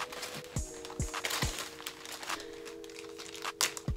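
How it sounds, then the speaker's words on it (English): Thin resealable plastic bag holding hair bundles being pulled open, a close, dry crinkling and rustling of plastic with a few sharp snaps of the seal, running steadily throughout with no voices. "like a little resealable plastic bag. So we're just gonna open one."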